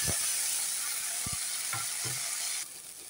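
Banana flower fries with dry chilli, bay leaf, cumin and cinnamon in oil, a constant soft sizzle with a few quiet stirring scrapes, easing slightly near the end.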